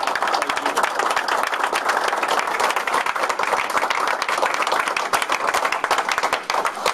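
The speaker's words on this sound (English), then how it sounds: "Let's give a round of applause to the great business community." Sustained applause from the audience at a press conference, with crisp individual claps audible within a loud, even wash of clapping that holds for several seconds with no speech.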